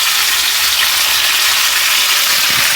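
Chopped tomatoes fry in hot oil in a pan on a stove for a few seconds, giving a loud, continuous hissing sizzle with no talking.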